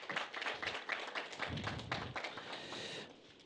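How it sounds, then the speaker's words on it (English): Faint, scattered applause from a forum audience, loose individual claps rather than a full ovation, tapering off near the end. "he deserves another round of applause"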